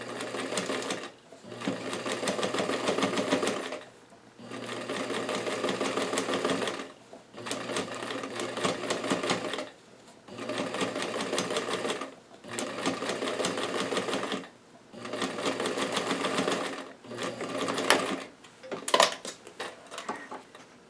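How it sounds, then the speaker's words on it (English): A sewing machine top stitches close along the seam of a small doll's rose dress using a straight stitch foot, running in steady bursts of rapid stitching separated by brief pauses, close and fairly loud throughout. "So I'm going to top stitch so this seam is up."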